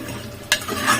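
Tomatoes and potatoes fry in a pan for a home-cooked Indian dish, a steady close sizzle broken by one sharp scrape of the stirring spoon midway through the single second.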